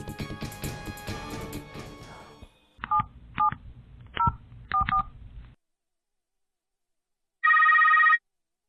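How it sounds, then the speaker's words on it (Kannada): A telephone number is dialed as a string of short electronic keypad tones, about six beeps in uneven rhythm after a burst of music, followed by silence and then a single longer ringing tone. "Home ಮಿನಿಸ್ಟ್ರಿಗೆ phone ಹಾಕೊಡ್ರಿ."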